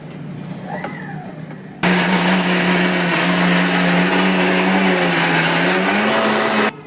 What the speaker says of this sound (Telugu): అట్టికాయ ముక్కలు కూడా మిక్సీలో వేసేసుకోవాలి మిక్సీ జార్లో